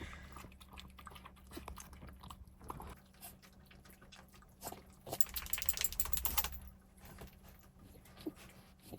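Close-up wet chewing and crunching as a dog eats, irregular bites and smacks with brief louder bursts of munching.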